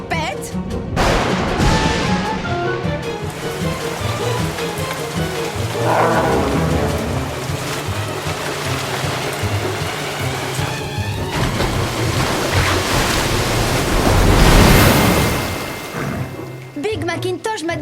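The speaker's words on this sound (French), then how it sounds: "Des nuages de tempête." A cartoon storm of steady rain and rushing wind roars loudly and continuously throughout, swelling toward the end, with dramatic music and effects layered over it.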